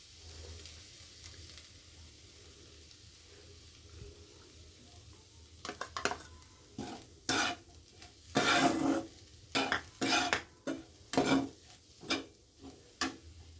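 Powdered milk stirred in a pan over medium heat while making Bengali mango patishapta, a faint low hiss at first, then a run of close, distinct spoon scrapes and taps against the pan, no voices.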